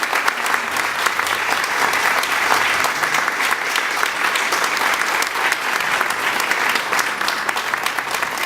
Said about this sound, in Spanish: Y hubo aplausos estruendosos, como yo les pido que lo hagamos en este momento